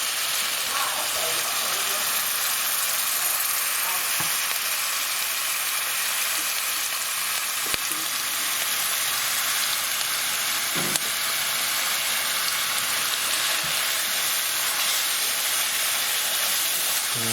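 A hot pan of chicken vindaloo with tomatoes hisses and sizzles loudly and continuously after a splash of water is added, the steady frying roar broken only by a few faint clinks of a utensil.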